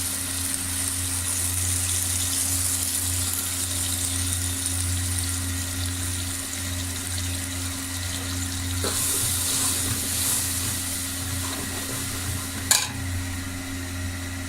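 Gram flour and yogurt mixture for kadhi cooking in a hot pan, a steady close sizzle and bubbling with light stirring and a brief clatter near the end, no voices.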